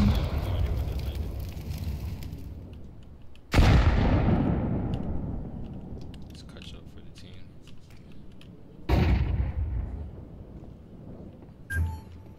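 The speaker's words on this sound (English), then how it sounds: "Grenade!" Video game grenade blasts: three sharp, loud detonations spaced several seconds apart, each a sudden broadband burst trailing into a long rumbling decay, followed by a smaller pop near the end.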